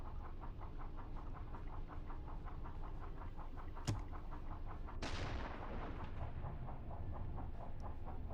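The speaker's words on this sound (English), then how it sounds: "They're definitely shooting something." Naval gunfire in a 1941 Mediterranean campaign naval game sounds as a sharp distant crack, then a heavier boom a second later, over a steady rhythmic engine throb.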